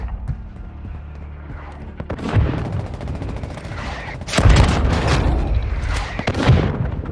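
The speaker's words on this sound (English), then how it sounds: "Friendly mortar strike inbound." Mortar strike explosions in Warzone Mobile gameplay land as heavy booming impacts mixed with bursts of gunfire, rising in two loud waves after a quieter opening.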